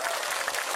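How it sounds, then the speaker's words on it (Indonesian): An audience claps at a religious sermon gathering, giving a brief, dense burst of steady applause throughout. "Saya minta tepuk tangan dulu dong buat panitianya."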